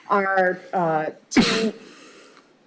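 A sudden sneeze-like burst in a quiet township board meeting room, one short explosive noise following a man's speech and trailing into low room hiss.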